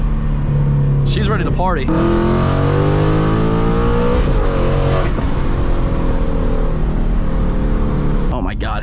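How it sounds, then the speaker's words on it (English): 2022 Ford Mustang Mach 1 with long tube headers and an H-pipe, downshifting through fourth, third and second with rev-matched blips: loud, close engine roars with sharp rising pitch sweeps, while a person talks over it. "Give you some rev matches. So we'll go to 4th, 3rd, 2nd."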